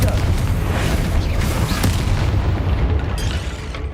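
Explosive Bombarda and Confringo spells going off in Hogwarts Legacy, a dense, loud rumbling blast with low booming energy sustained across the whole stretch, a sharper crack near the middle, and no voice over it.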